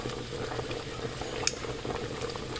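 Ribs cooking down in liquid in a pot, a quiet steady bubbling simmer with soft plops and one brief sharper tick, no one talking.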